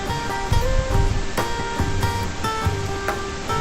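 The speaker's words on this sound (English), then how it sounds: "Here we are putting in 5 gallons of water." Five gallons of water pour into a beer brewing kettle for a college homebrew, a dense steady splashing rush with some hollow ringing tones.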